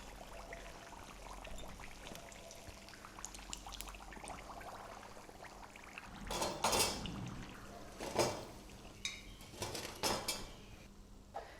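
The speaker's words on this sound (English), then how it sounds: "My samosas are fried. I am to take them out now." Fried potato samosas lifted out of a pan of hot oil, soft metallic clinks and scrapes of utensils against the pan over a faint sizzle, a few louder knocks near the end.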